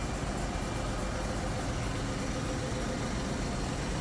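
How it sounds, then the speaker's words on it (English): Three diesel generators run in the engine room of the bulk carrier MV Unity Moon, making a loud, close, unbroken drone with heavy low rumble that fills the space, with no voices. "First up here are the 3 diesel generators."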